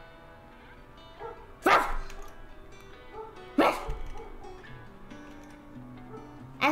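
A dog barks outside in two or three loud, sharp single barks spaced a couple of seconds apart, over a soft steady background with a brief exclamation from a person.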